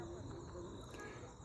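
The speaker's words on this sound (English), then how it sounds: "I think you can hear the crickets." Crickets chirp in a steady, continuous trill outdoors beside a lake on a calm evening, soft and at a moderate distance, with no voices over them.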